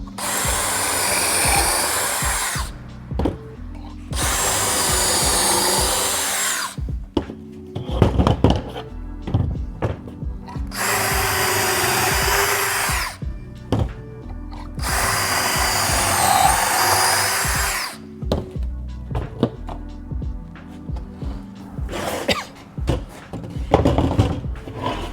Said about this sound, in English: now I just got to drill the pocket holes and then put this thing together